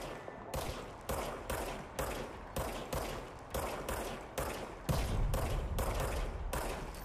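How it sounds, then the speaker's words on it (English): Gunfire from the player's weapon in the video game Control: a rapid run of loud, evenly spaced shots in bursts, roughly one or two per second, with a heavier, denser stretch of fire toward the end and no talking. "Now I have a gun."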